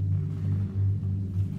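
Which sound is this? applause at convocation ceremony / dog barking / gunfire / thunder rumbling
thunder rumbling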